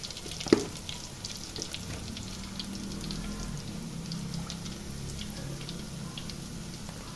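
Vadam fries in hot oil in a pan, a steady, quiet sizzle with soft crackles and light popping throughout, one sharper pop near the start, and no voices.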